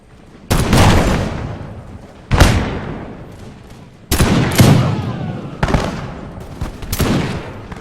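Musket gunfire in an American Revolution battle video game, a few loud booming volleys spaced a second or two apart, each ringing out into a long echoing tail.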